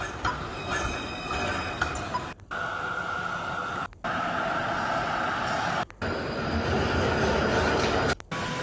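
Tram street ambience in Melbourne's central business district: a steady rumble of rolling tram wheels and traffic with faint squealing tones, broken by several abrupt gaps where the sound cuts out.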